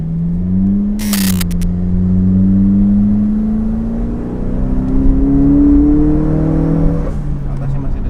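A turbocharged Suzuki Jimny engine revs up steadily from a low idle to a climbing drone, holds high, then drops back, loud and close, with a brief burst of hiss early on.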